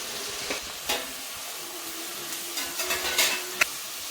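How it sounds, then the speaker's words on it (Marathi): Carrot, beetroot, capsicum, cabbage and spring onion sauté in a hot pan for chapati noodles, a soft steady sizzle broken by scattered scraping stirs and small clinks. "आपण आता थोडंसं गाजर टाकू, थोडंसं बीट, ढोबळी मिरची आणि कोबी टाकायचं आणि कांद्याची पात टाकू, चांगलं परतून देऊ"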